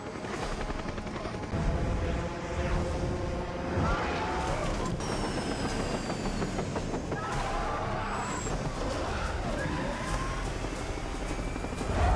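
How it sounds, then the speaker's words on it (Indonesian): A helicopter's steady rotor roar fills the whole stretch, loud and constant, with a faint voice speaking underneath. "pada saat helikopter lepas landas"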